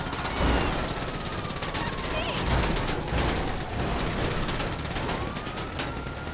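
Rapid pistol gunfire in Grand Theft Auto, dense bursts of shots layered with a wailing police siren and game chaos, with voices talking over it.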